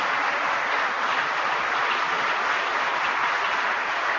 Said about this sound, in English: Give the people at the department a round of applause